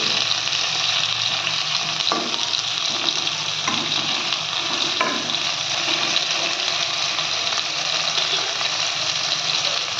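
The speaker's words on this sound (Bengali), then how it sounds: "আলুগুলোও আমি হাই ফ্লেমে একটু ফ্রাই করে নেব।" Potatoes frying in oil over a high flame and stirred now and then, giving a steady, loud sizzle with occasional scraping knocks of the spatula throughout.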